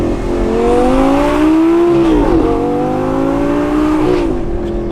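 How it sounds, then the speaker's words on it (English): Interior sound of a Ferrari 430 supercar being driven: a loud, steady engine drone fills the cabin, the pitch rising, dipping briefly as if shifting, then climbing again, with no talking. "as first experiences go in that Ferrari 430, I have to say that the sound carried through the interior amazingly"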